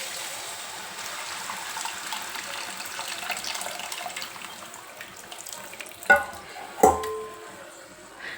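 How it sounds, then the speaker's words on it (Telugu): Soaked tamarind is squeezed by hand so its water runs out for a bitter gourd tamarind curry: a wet, squelchy trickle near the mic, followed by two sharper knocks close together. "కడిగి ఇట్లా చింత నీళ్ళు పిసికి వేసుకోవాలి"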